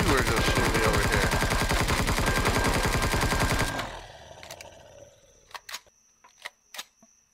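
Sustained automatic gunfire in the game Empyrion Galactic Survival rattles in a fast, even stream for nearly four seconds, then cuts out, followed by a handful of sharp single shots spaced apart against a quieter background.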